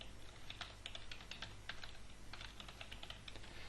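Rapid typing on a computer keyboard, close and steady, in irregular bursts of clicking keystrokes with brief pauses over a low background hum.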